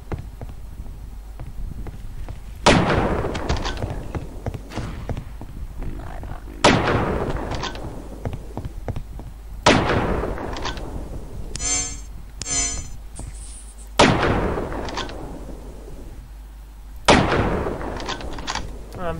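Sniper rifle shots in a video game, five loud, sharp booms spaced a few seconds apart, each with a ringing tail, alone without talk.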